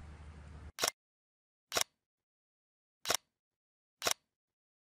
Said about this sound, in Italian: comincio a riscaldare l'otturatore facendo delle foto